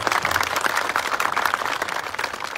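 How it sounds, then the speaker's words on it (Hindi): A crowd at a political gathering in Pakistan applauds the ILF team, a dense and steady wash of many hands clapping that is loud and continuous throughout. "ILF के लिए आप जोर से तालियां बजाएं"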